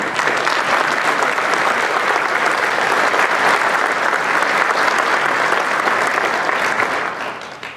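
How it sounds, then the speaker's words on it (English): A large crowd applauds steadily and loudly for several seconds at a Rhode Island manufacturers' annual meeting, a dense wash of clapping that tapers off at the end. "I'd like to give a big hand of applause for North Kingstown"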